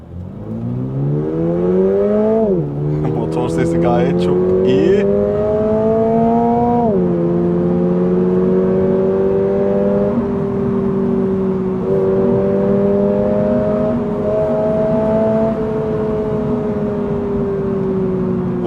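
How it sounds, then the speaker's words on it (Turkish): A 2022 Toyota GR86 sports car engine revs up loudly in sport mode, climbs in pitch, dips, then holds a steady high drone as it accelerates, close and continuous throughout. "motor sesi"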